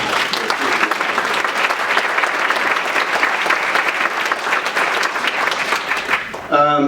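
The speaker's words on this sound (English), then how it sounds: "he deserves a huge round of applause" An audience gives a dense, loud round of applause that holds steady for several seconds and then cuts off, and a voice begins speaking at the end.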